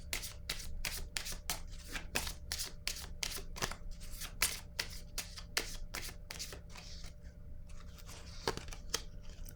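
Oracle cards are shuffled by hand in a rapid, even series of close papery riffles and snaps, repeating steadily throughout with no talking.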